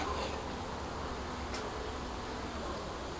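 Honeybees humming in a low, steady swarm drone as they are shaken off hive frames while starting a new colony, a continuous faint buzz with no voices.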